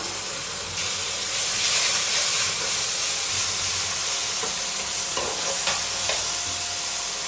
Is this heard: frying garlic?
yes